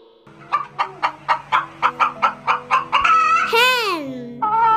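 A hen clucks in a steady run of about a dozen short, evenly spaced calls, then breaks into a long, rising and falling squawk, close and loud.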